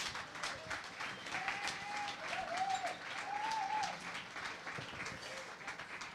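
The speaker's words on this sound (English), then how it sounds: "So if you'd just like to give them a round of applause." A warm round of applause from an audience welcoming guests, a swimmer and his coach, runs evenly throughout at moderate distance, with a faint voice briefly sounding over the clapping.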